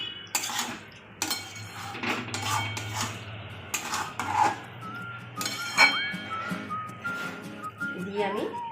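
Masala mushroom being mixed with tomato sauce in a pan, with spoon scrapes and metallic clinks against the cookware arriving in irregular bursts, accompanied by a faint whistle-like tone.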